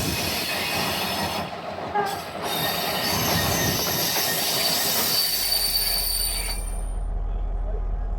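A busy passenger train pulls out of Annaba station in Algeria with loud, sustained high-pitched wheel squeal and rumbling rail noise, ending in a low engine drone as the squeal fades.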